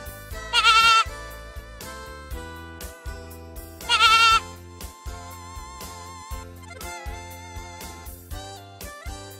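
A goat bleats loudly twice in quavering cries, set against a background of rhythmic music.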